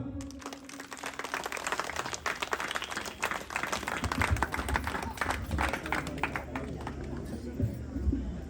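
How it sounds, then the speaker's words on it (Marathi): An audience claps together at a Marathi devotional jagar ritual, a dense, sustained patter of many hands with voices talking and murmuring underneath throughout. "सगळ्यांनी टाळ्या वाजवा"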